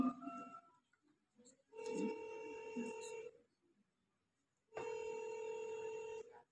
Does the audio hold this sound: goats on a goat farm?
no